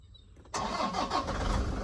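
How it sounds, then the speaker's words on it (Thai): A 2012 Toyota Vigo Prerunner 2.5 pickup engine cranks briefly and catches, then settles into a loud, steady idle close by. "เดี๋ยวสตาร์ทรถด้วย"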